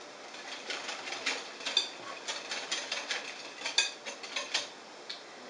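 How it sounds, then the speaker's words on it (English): Quiet, rapid clinking and ticking as a whisk beats batter made with very cold water against a bowl, in uneven bursts close by. "Whisk it together."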